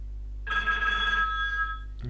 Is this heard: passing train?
no